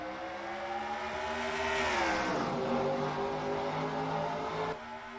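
Stock car engines roar together as the field takes the green flag at Charlotte Motor Speedway in a racing video game, a loud layered drone that rises in pitch as the cars accelerate, then cuts lower near the end.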